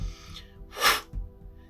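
A single sharp, forceful burst of breathy air as rapé snuff is blown fast and hard through an applicator, rising and falling within half a second, with quieter breathing around it.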